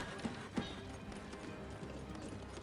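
Horses gallop in the real-time strategy game Cossacks 3, a steady clip-clop of hooves running under a dense wash of battle and game ambience, with a couple of louder thuds near the start.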